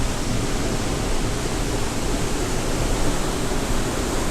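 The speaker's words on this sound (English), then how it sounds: "Listen to those waves crashing" Ocean waves crash along the coastal cliffs on the walk between Bronte and Bondi, a dense, steady roar of surf filling the air without pause.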